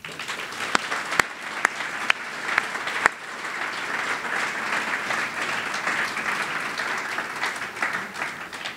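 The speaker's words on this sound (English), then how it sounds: "let's have one final round of applause for all the winners tonight" An audience at the Preservation Achievement Awards applauds the winners, with a few sharp, distinct claps at first that quickly build into a sustained, even round of crowd applause heard from the middle of the room.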